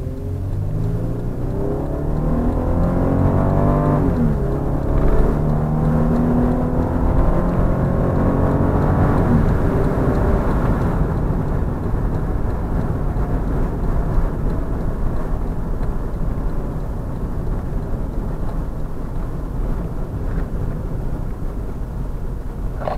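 A 2005 Kia Sorento BL with a 3.5L 195 hp engine, automatic gearbox and 4WD accelerates hard from 0 to 100 km/h, its engine note rising steadily through the gears, loud and close inside the cabin with no talking.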